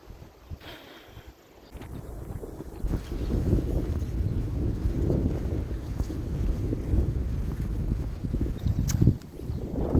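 Strong outdoor wind buffets the microphone, starting out quieter and then swelling into a steady, roaring gust that keeps pushing and rumbling without a break, with no voices over it.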